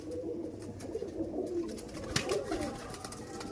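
Pigeon cooing from a large, roughly 8–10-year-old pigeon belonging to a breeder, low soft coos recurring steadily through steady background noise.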